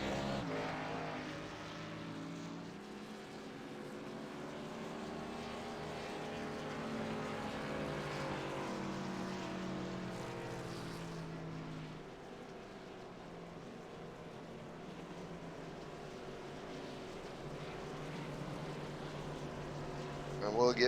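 A NASCAR Xfinity Series race car at Charlotte Motor Speedway during the Lowe's 225 drones steadily, its engine pitch rising and falling through gear changes as the car moves, with a voice faintly beneath.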